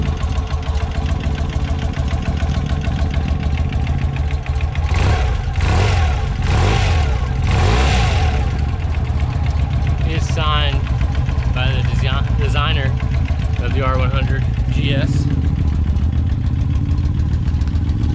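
A red 1992 BMW R 100 GS with a shaft-driven 5-speed boxer twin runs steadily at a loud idle, with a few throttle blips partway through and someone talking over the engine throughout.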